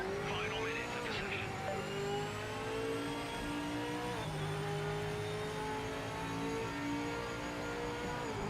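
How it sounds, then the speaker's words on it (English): A race car in Project Motor Racing holds a sustained engine drone while its tyres squeal in shifting, wavering tones, loud and continuous with no talk over it. "Oh, that tyre sound."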